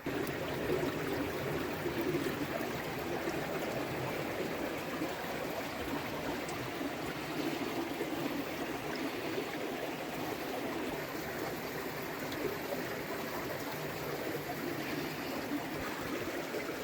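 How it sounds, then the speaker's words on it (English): Clear spring water runs in a small stream with a steady, even babbling trickle and rush that holds unbroken throughout, close and moderately quiet, with no one talking. "the spring water coming out of this particular stream"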